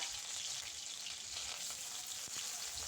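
Chopped green chilies and onion sizzle in hot white oil in a wok, a steady, close crackling hiss that runs without pause, with no voices over it.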